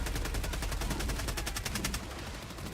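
Machine gun fire in Helldivers 2, a rapid burst of evenly spaced loud shots lasting about two seconds, then fading into rumbling battle noise.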